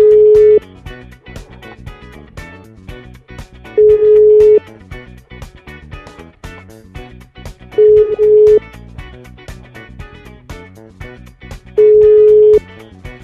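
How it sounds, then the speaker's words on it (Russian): An outgoing phone call to a number nobody picks up: a long ringback tone repeats four times at steady intervals of about four seconds, over quiet background music. "единственный телефон, трубку которого никто не берет"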